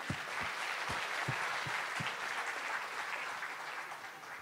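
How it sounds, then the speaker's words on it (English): An audience claps steadily and evenly throughout, a sustained round of applause with a few louder thumps early on. "Let's have a round of applause for all of them."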